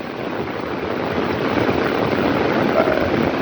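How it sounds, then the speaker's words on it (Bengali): Dense, steady roar of heavy rain, a loud broadband hiss that stays constant throughout with no voices. "চারদিকে এতই বৃষ্টি যে কি বলবো, ছাতা পর্যন্ত ধরে রাখা যাইতেছে না"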